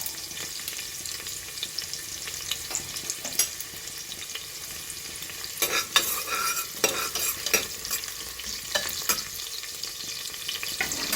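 Onions frying in oil for a chicken biryani masala, stirred continuously: a close sizzle under repeated scraping strokes of the spatula against the pan, busier in the second half, with no voices.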